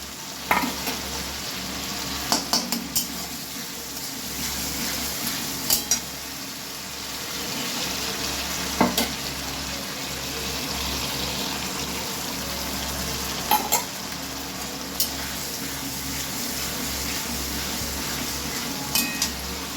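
Grated ginger and garlic sizzle steadily in a hot pan while being stirred, a continuous frying hiss with occasional scraping clicks from the spoon, close and fairly loud with no talking.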